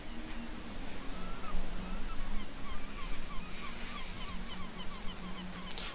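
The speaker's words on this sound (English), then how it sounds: "just the seagulls making some noises." Seagulls call faintly and repeatedly behind a steady wash of outdoor noise, their honking cries scattered across the stretch with little else over them.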